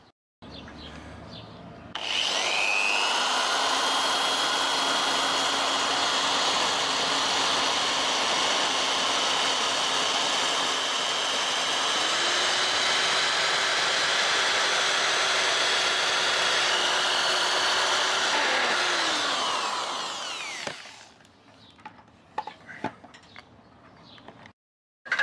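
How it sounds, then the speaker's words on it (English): Power drill boring a burner hole through the wall of a homemade metal-melting smelter, a steady loud grinding whir running for about eighteen seconds, its pitch stepping up midway before it winds down, with a few small knocks afterward. "So, and we start drilling."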